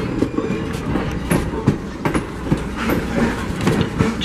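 A train pulls into the platform at Strasburg Rail Road, a heritage line in Pennsylvania, with steady rumbling and rhythmic clickety-clack of wheels over rail joints, fairly close and continuous, with no voices.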